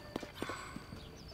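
Horse hooves clop at a walk in the video game The Legend of Zelda: Tears of the Kingdom, a few soft, uneven steps over a faint background hum, quiet and brief.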